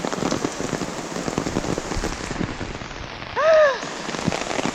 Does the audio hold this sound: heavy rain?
yes